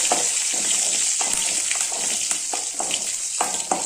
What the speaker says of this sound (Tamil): கொஞ்ச நேரம் ஃப்ரை பண்ணிக்கலாம். நல்லா வறுத்துக்கலாங்க.